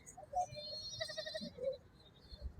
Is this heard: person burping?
no